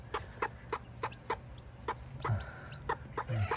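Repeated short peeping calls of quail chicks, roughly evenly spaced, with a few softer, lower clucking sounds mixed in nearby.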